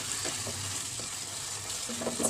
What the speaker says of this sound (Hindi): इसमें मैं हरी मिर्चें डाल के ना इसको मैं घुमा रही हूँ, क्योंकि ये नीचे लग जा रहा है